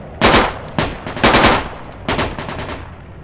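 Automatic rifle fire in Project Reality, a Falklands battle at Goose Green: loud, close bursts of rapid shots in three or four separate volleys, each trailing off in a short echo.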